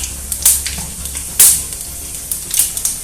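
Panch phoron spices crackle in hot oil left from frying bitter gourd for Bengali shukto, with sharp intermittent hisses and pops over a low steady sizzle, close by.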